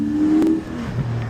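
A Porsche on the wet Petrol Ped hill climb, its engine revving up sharply in one brief surge, then easing off as the note drops away.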